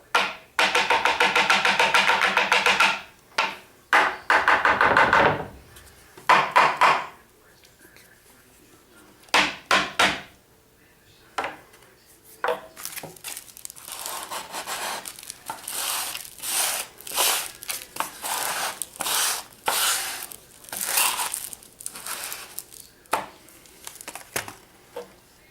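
A Bosch sander is knocked against a surface to shake loose sanding dust, producing close, irregular bursts of tapping, rattling and scraping with short pauses between them.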